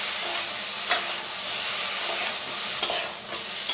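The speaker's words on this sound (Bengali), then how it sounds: "কিছুটা নাড়িয়ে দিচ্ছি" Eggplant fries in oil in a pan over a medium flame while being stirred, a steady sizzle broken by a few sharp scrapes of the utensil.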